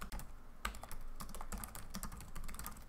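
Rapid typing on a computer keyboard, a steady close run of crisp key clicks and taps with a few heavier strokes, no voices.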